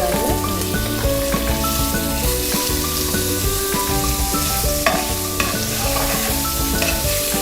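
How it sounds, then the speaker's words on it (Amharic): Marinated, spiced beef fries in hot oil with a loud, continuous sizzle and crackle, steady throughout with occasional stirring clatter, close up and without talk. "ዘይታችን ግሏል። መጀመሪያ የምናደርገው ቢፉ"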